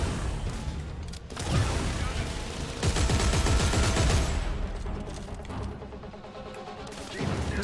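Dense automatic gunfire in the sci-fi shooter Dead Space 3 rattles in sustained bursts with crashing impacts, while someone talks over the shooting.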